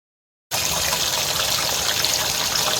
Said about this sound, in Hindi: तो मैं यहाँ पे पानी भर रही थी